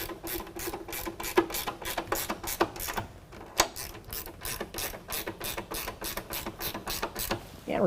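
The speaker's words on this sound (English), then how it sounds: "you can tighten them down using a 13mm" A ratchet wrench with a 13mm socket tightens running board bracket nuts on a 2019 Silverado 1500, clicking in quick rhythmic bursts with short pauses between strokes, close and clear with no talk.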